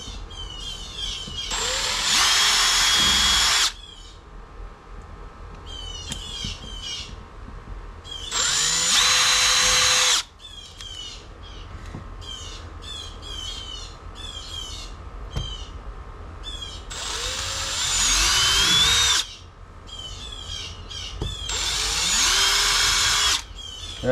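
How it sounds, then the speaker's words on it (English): Pre-drilling holes to mount a Fusion marine stereo: four loud bursts of a power drill whirring for a few seconds each, separated by quiet stretches with faint handling noises and birds chirping in the background. "I'm gonna go ahead and pre-drill this thing right where we want it"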